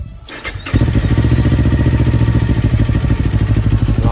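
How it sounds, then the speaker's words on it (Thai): A 2018 Kawasaki Ninja 400 motorcycle engine catches after a brief starter crank and settles into a steady, throbbing idle, loud and close, with no voices. "ฟังเสียงเครื่องยนต์นะครับ"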